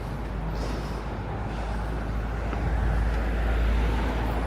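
New York City street traffic in the West Village, cars and heavier vehicles rumbling past in a continuous wash of road noise that swells toward the end, no talking.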